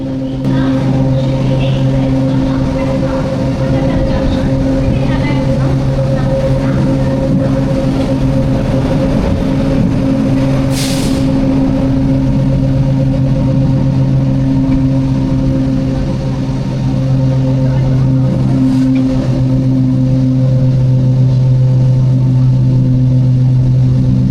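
A Tirupati to Katpadi MEMU train running at speed, with a loud, continuous rumble and steady humming motor tones throughout, a brief hiss midway, and no talking.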